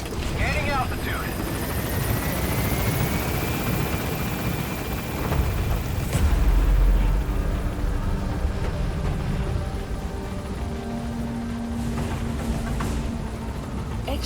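A military helicopter in the video game Metal Gear Solid V: The Phantom Pain takes off from a landing zone, rotor roar and rising turbine whine loud and constant throughout, with radio voices talking over it.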